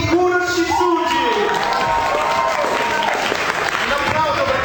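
Audience applauding cosplay contest winners at an awards ceremony, steady clapping and some cheers filling the room while an announcer speaks at the start.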